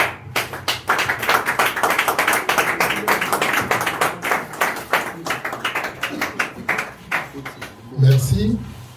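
An audience applauds at a press conference welcoming Alex Kalenda, a dense patter of many hands clapping close by, fading out near the end as a low thump and murmured voices take over.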